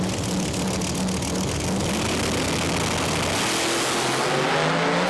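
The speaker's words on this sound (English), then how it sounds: "turbo car against nitrous car" Pro Mod drag cars, one turbocharged and one nitrous-fed, launch at Santa Pod Raceway with a loud, sustained engine roar and rising pitch as they pull away, the sound slightly thinning toward the end.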